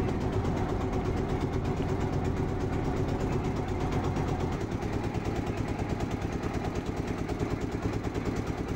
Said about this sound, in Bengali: ট্রলার চালাচ্ছে, বসে আছে হ্যান্ডেল ধরে।